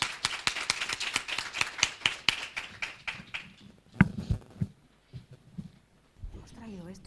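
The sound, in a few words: audience applause at a conference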